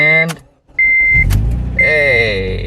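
A 2006-2011 Honda Civic Si engine cranks and catches after a starter replacement, a mid-pitched engine note rising and settling close by, with brief electronic tones and a voice speaking over it.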